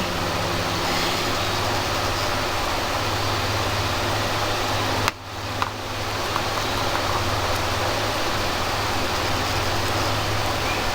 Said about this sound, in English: my fan is blowing my cage away